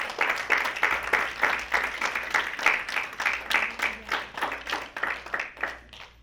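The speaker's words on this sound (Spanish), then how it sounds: "Denle un aplauso al Señor mientras me arreglo." A congregation applauds during a bilingual Spanish-English church sermon, steady, fairly quiet clapping from many hands sustained throughout with no talking over it.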